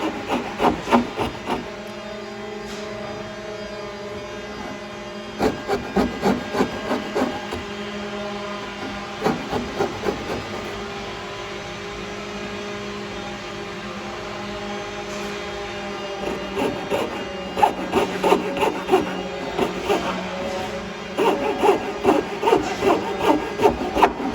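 A hand saw cuts a hardwood board for a coped joint in repeated bursts of rasping back-and-forth strokes, with pauses between the runs of cutting, close up and with no talking.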